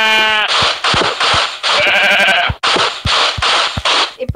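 Minecraft sheep bleating in a blocky video game world, several loud, close bleats following one another in quick succession with no talk.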